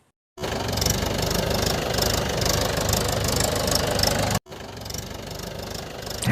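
A tractor engine starts up and runs with a steady, loud knocking idle, cuts out briefly, then resumes running.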